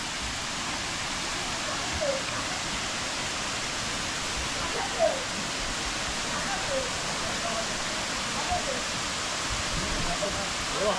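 Water pours steadily down a small village waterfall, a constant close broadband rush with a few soft splashy bumps and faint voices under the noise.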